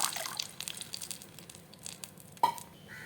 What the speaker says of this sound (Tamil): இந்த சமயத்தில் நான் வந்து புளி கரைசல் விட்டுக்கிறேன்